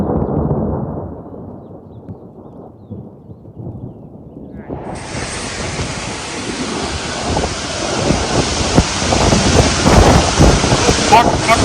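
Loud, roaring wind from a supercell storm with hail buffets the microphone, building into a harsh, broadband rush that grows stronger halfway through and stays intense.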